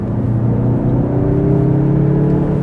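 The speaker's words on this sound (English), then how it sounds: "This is just the turbocharged 4-cylinder engine, good power" A 2024 Mazda CX-30 2.5 turbocharged four-cylinder engine drones steadily with a low, humming whir that gradually rises in pitch as the vehicle accelerates, heard from inside the cabin.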